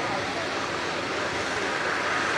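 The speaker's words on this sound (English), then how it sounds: "Revs are up, the line is up and they're underway" GT140 grasstrack motorcycles rev hard at the start line of a race, producing a loud, continuous, close engine roar that holds steady throughout without a break.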